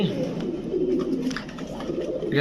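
Pigeons coo steadily in low, throaty warbles that continue throughout, with a faint rustle of birds nearby, among pigeons kept for sale.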